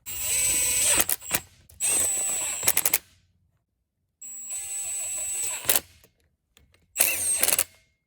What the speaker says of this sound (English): I'm going to scrape the gasket off it so I can get a good clean surface